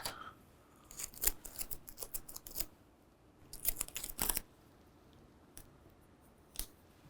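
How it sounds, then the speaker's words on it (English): Clear plastic tape being pulled and applied to large sheets of paper on a table, with quiet bursts of ripping and crinkling, sharp clicks and pauses between strips. "I'm going to tape these up with a little clear plastic tape."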